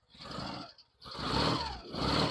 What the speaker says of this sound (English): Sounds like a big bike, doesn't it?